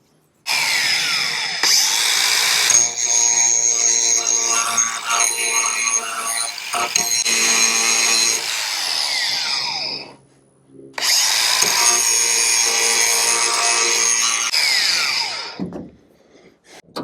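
An angle grinder with a grinding blade whines loudly and close in two long runs of several seconds, with a brief pause between them and a clatter at the end.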